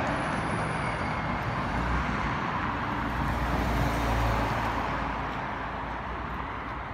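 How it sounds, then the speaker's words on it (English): An Orion city bus drives along Lawrence Avenue West in Toronto near Yonge Street, a continuous broad engine rumble and road roar, close and steady throughout, swelling slightly midway with no talk. "So this bus is heading to Lawrence Station at Yonge Street."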